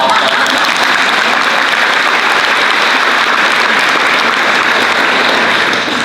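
Steady, loud applause from a large crowd at a school prize assembly fills the whole stretch without letting up.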